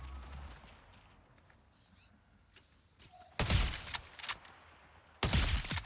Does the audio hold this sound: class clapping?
no